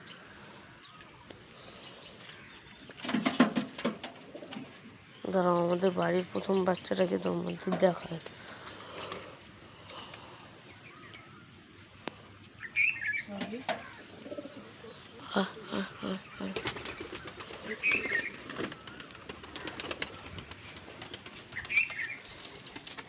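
Pet pigeons at home, including a young chick, coo and flap their wings at close range, with scattered soft calls while a person talks over them.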